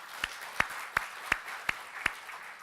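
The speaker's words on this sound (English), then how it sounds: "So let's give them a round of applause." At an award ceremony for the Lee Kuan Yew World City Prize, six sharp, evenly spaced hand claps ring out faintly over a quiet room tone.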